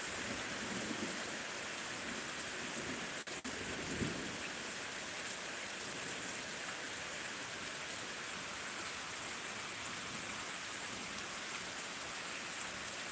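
Heavy pre-monsoon rain pours steadily over farmland with no wind, a thick unbroken roar, while a single low thunder rumble rolls through early on and fades back under the rain.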